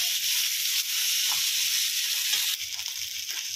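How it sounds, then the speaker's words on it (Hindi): Potatoes fry in a pan for a vrat-style dish, giving a steady close hiss and sizzle throughout, with a few soft low knocks of stirring near the end. "तो ये 1 से 2 मिनट तक मैंने आलू फ्राई कर लिए हैं।"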